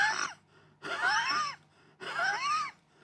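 A voice imitates a child's wheezing breaths, three drawn-out whistling exhalations separated by short pauses, close and fairly loud.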